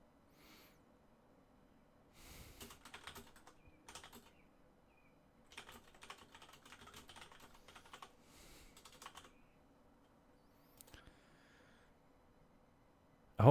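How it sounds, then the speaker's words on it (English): Computer keyboard typing during a livestream, heard as several separate bursts of quick, close clicking with short quiet gaps between them, and a sharp louder knock at the very end. "You guys get to hear me say what I'm typing."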